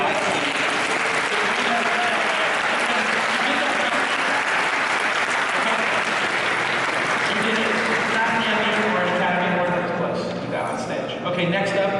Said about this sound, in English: Can we give a huge round of applause for